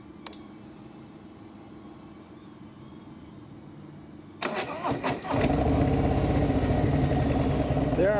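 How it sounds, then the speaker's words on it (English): A Harley Davidson motorcycle engine cranks with a few sputtering attempts, then catches and settles into a loud, steady rumbling idle close by, after a stretch of quieter background noise. "what's up with my motorcycle here?"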